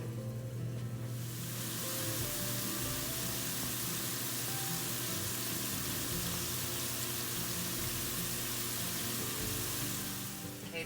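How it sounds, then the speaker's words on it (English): Chana masala sautéing on medium heat in a pan, giving a steady, even sizzle with a faint crackle that carries on unbroken throughout, with no talking. "this has been sauteing for about 5 minutes"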